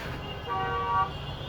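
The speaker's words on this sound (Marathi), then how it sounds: "नालासोपारा ब्रिज जवळ ट्रॅफिक सापडले आपल्याला." A car horn toots once, fairly close, over rumbling road traffic near Nalasopara bridge on a congested route out of Mumbai.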